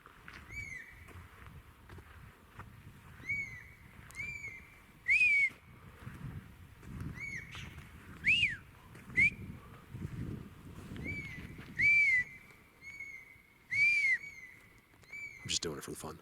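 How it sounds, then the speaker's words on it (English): Loud, sharp whistles ring out repeatedly in a remote forest, rising and falling in pitch at irregular intervals over a steady outdoor background hiss, with no talking. "That was the loudest whistle ever recorded in the history of the world."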